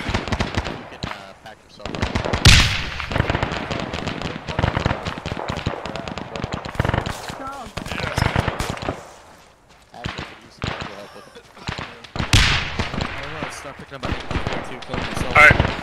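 Intense battle in ArmA3 WW2 on an Omaha Beach D-Day landing, with dense rattling gunfire and sharp explosive bangs in irregular bursts, loud and close, and voices talking throughout.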